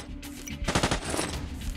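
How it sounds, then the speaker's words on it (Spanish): Firearm gunfire in the Cards of the Dead video game: a quick burst of several rapid shots, moderately loud and close, with no talk over it. "el problema del arma de fuego es que hace ruido"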